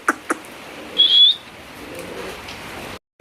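A pigeon lets out a single short whistling call close by, with a few faint clicks and low background noise around it.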